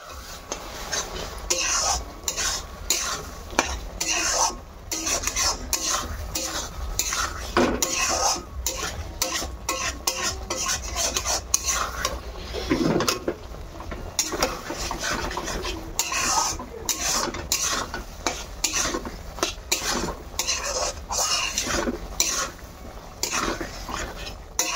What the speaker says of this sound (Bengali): সেই বাটা মশলাটা দিয়ে আর বাদবাকি গুঁড়ো মশলা টশলাগুলো দিয়ে ভালো করে কষিয়ে টষিয়ে নেব